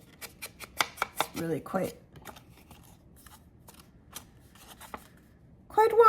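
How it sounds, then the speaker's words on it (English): Scissors trim paper for a junk journal envelope with a quick run of crisp snips at close range, then sparser clicks. Someone speaks between the cuts. "I might need to trim that top a little more, actually."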